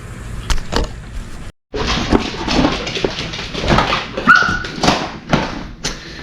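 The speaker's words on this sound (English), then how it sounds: "Cue the dogs." Dogs in a backyard bark, yip and whimper in repeated loud, close bursts, mixed with thumps, with a brief silent gap partway through.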